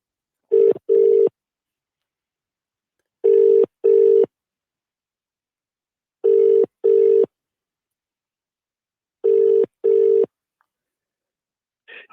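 Telephone ringing on a phone line as a caller comes through to a live football fan phone-in show, four double rings evenly spaced, loud and clear with no talk over them.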